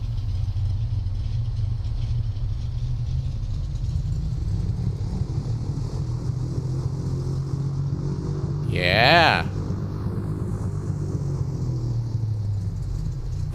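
A Piper Seneca II twin-engine light aircraft's engines rumble steadily at low pitch in X-Plane 12, with a brief rising whine near the end, while someone talks over it.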